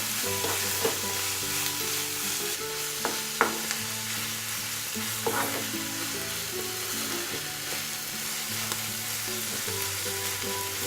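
Mushrooms and vegetables sizzle and hiss in a hot pan seasoned with red chili powder, a loud continuous frying crackle broken by a few sharp clicks and scrapes of stirring.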